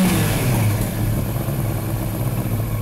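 A 1998 Yamaha R1 motorcycle engine, close by, gets a short blip of throttle above its idle, the revs rising and then hanging before settling back into a steady hum.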